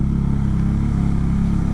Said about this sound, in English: Still got a lovely sounding engine